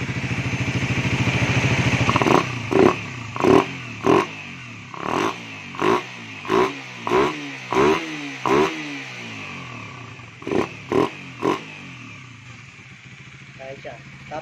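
A Suzuki Raider 150 Fi motorcycle engine with a freshly reset tensioner idles steadily, then is revved in about ten short, evenly spaced throttle blips before settling back to idle.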